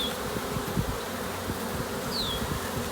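A honey bee swarm drones steadily inside a swarm box, with a dense, continuous buzz close by and no talking.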